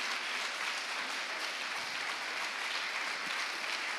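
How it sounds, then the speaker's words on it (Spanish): Church congregation applauding in a dense, steady wash of clapping that holds at an even level throughout. "Dale el aplauso."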